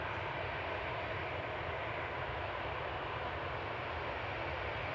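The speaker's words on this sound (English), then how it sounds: "Lufthansa flight 949 to Frankfurt going next, the AIZG with their A320 Classic heading off now" A Lufthansa Airbus A320 Classic jet heading off on departure at Manchester Airport, bound for Frankfurt, its engine roar a steady, fairly faint broadband rush that holds even throughout.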